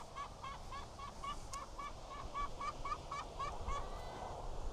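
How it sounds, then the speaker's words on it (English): A farm goose honks in a quick repeated series of about a dozen nasal calls, moderately distant, over steady wind noise outdoors. "My goose got out today."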